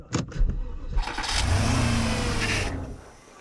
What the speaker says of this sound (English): Start your engines in 3, 2, 1, go.